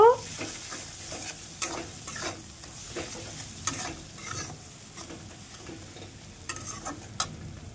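Turmeric and red chili powder frying in oil for a tilapia curry, scraped and stirred with repeated spoon clicks over a low, steady sizzle, close and moderately quiet, with no talking.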